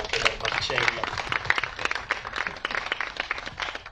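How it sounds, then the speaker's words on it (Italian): An audience at an outdoor terrace event claps in a ragged, moderate round of applause, with some voices mixed in among the claps. "Un applauso, insomma, anche per Marcello"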